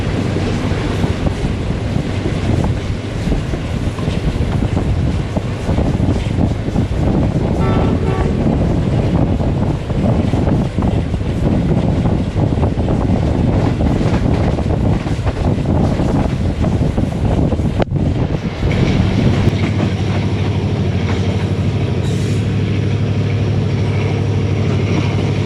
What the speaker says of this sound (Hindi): इस वक्त ट्रेन हमारी आहिस्ता आहिस्ता लोधरा शहर की जानिब बढ़ रही है